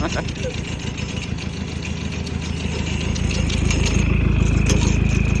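A 1982 Datsun 720 pickup with a swapped Terrano engine idles nearby with a steady low rumble that grows slightly louder, with faint metallic jingling on top.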